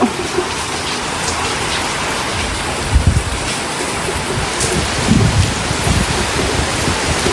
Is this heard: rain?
yes